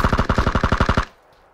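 An automatic weapon fires in a fast burst in the battle royale shooter PUBG, about a dozen sharp, evenly spaced shots in one second, loud and close, then a short fading tail.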